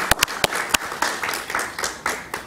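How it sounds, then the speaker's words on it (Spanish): An audience at an interview event claps briefly, with several sharp, distinct hand claps standing out at the start, then softer, uneven clapping that continues at moderate volume. "un aplauso para Paquita, que está por aquí."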